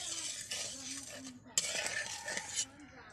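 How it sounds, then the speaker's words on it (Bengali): A spoon stirs salted water with turmeric in a cooking pan, giving quiet scraping and clinking strokes across a few seconds with a sharper knock midway. "ভালো করে নেড়ে নিচ্ছি।"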